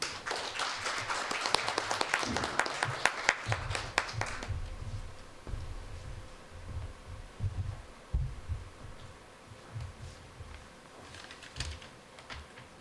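Audience applause at a ceremony, a dense burst of clapping for about four seconds that dies away into low room rumble and a few scattered claps.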